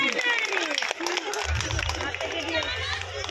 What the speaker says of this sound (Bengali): তাদের জন্য একটু জোরে হাততালি হোক সবাই মিলে